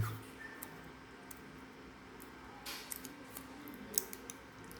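Faint, sparse snips of scissors cutting insulating tape, a few quick clicks scattered over a quiet room.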